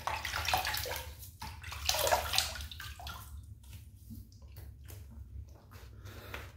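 Tap water runs and splashes in a sink while hands wet a face before a shave. Irregular splashes and squishes sound close by, then grow quieter and sparser.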